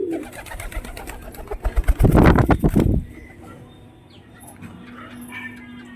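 Pigeons in a loft, with a rapid burst of loud wing flapping and close cooing and fluttering that stop abruptly, followed by quieter faint coos and rustling.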